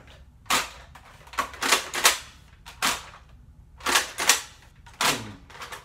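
A toy long gun fires in a string of sharp, dry cracks, some single and some in quick pairs, close and loud with short pauses of quiet between them.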